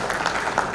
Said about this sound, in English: Another round of applause for colleagues from Care Mother.